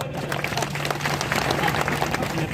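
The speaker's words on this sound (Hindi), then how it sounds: "ये आदमी के लिए ताली बजाओ" An audience breaks into loud, steady applause for a man among them at a Hindi-language gathering, with dense clapping filling the room throughout alongside faint crowd murmur.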